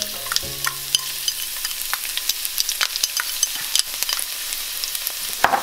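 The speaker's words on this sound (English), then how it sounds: "And stir the garlic until a golden brown and give you a really, really good smell." Chopped garlic fries in about two tablespoons of vegetable oil for a kabocha squash stir fry, a steady bright sizzle punctuated by frequent close scraping taps of a utensil stirring in the pan.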